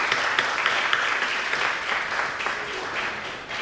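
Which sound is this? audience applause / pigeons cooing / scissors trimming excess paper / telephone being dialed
audience applause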